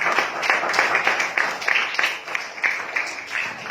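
Congregation clapping at a Bible study gathering, a steady patter of many hands close by with soft voices mixed in.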